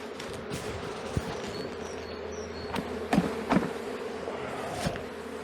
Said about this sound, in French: je vais venir retirer les abeilles